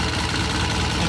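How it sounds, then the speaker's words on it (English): A vintage British motorcycle engine runs at a steady idle, giving a loud, close, continuous mechanical drone with rough low pulsing throughout the short stretch. "The bike runs great"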